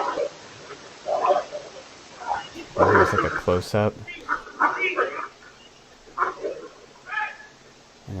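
Dogs fight up close, with snarls, growls and bursts of yelping and barking in irregular clusters, while a person speaks over the commotion.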